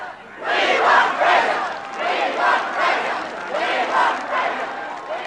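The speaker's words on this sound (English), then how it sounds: "Liberal cheers." Crowd at a 1975 Liberal campaign rally for Malcolm Fraser cheers and shouts in loud, continuous waves that swell and ebb for several seconds, with no single voice standing out.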